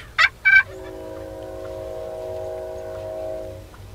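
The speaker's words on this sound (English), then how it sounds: "this tom just keeps gobbling and hangs up about 100 yards away" A wild turkey tom gobbling during a Kansas spring hunt, roughly 100 yards away: two quick, rattling gobble bursts, then a long steady droning tone that lingers for several seconds.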